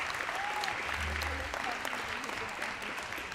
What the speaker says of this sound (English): A big round of applause for Mr. Budak.